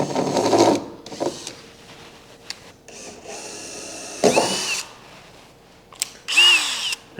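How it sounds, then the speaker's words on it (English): A power drill boring a pilot hole into a boat's stern for a TitanX 12.5 steering kit, sounding in several separate whining bursts, the last rising in pitch, with quiet pauses between them. "Start off by making that pilot hole if you want to."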